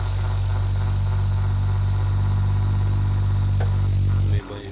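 An Asahi electric fan with a swollen capacitor runs with a loud, steady low hum and buzzing vibration, close and continuous, before the motor drone cuts off abruptly near the end.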